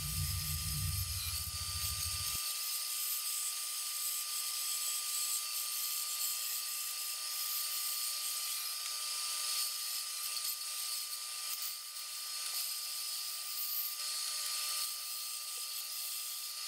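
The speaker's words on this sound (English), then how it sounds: "I just kind of went through with the belt sander and just kind of got rid of all like the marks that the bandsaw made" A belt sander smooths a bandsaw-cut wooden fish carving, giving a steady, loud abrasive whirr that runs unbroken and close for the whole stretch.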